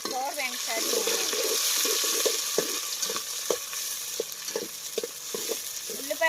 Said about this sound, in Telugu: ఉల్లిపాయ పచ్చిమిర్చి బాగా ఫ్రైన్స్ వరకు ఫ్రై చేసుకున్నాం